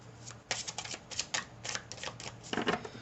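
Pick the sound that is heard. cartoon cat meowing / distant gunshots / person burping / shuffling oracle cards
shuffling oracle cards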